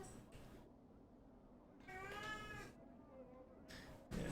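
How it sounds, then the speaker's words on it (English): A cat meows in the Planescape Torment video game, two or three plaintive mid-length meows with faint background ambience, close and clear. "And the cat's meowing."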